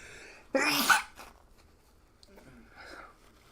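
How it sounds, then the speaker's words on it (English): A single loud, sharp sneeze bursts out near the microphone during a baseball play-by-play broadcast, followed by quiet breathing and faint background murmur. "I'm going to sneeze."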